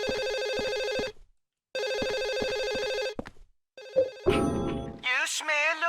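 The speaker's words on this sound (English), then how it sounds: "I just want to pick up the fucking phone so it stops ringing" In Silent Hill 4, a telephone rings loudly and clearly in two long bursts separated by a pause, followed by a shorter ring before a voice speaks over the end.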